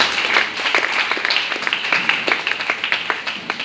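A church congregation claps and applauds in praise, steady broadband clapping with scattered louder claps, close and continuous with no talking.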